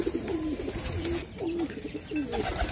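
Pigeons coo at a rooftop loft beside a small roof garden, a few distinct close, repeated coos with soft background noise.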